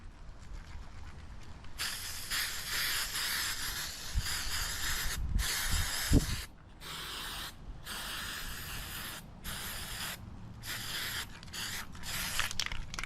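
An aerosol can sprays glow paint onto fishing sinkers in repeated long hissing bursts with short pauses between them, close and fairly loud, with some soft handling bumps and no talk.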